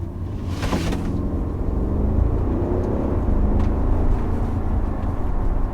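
An Audi SQ7 engine rumbling steadily while driving, a low continuous drone with a brief brighter burst near the start and faint road noise throughout.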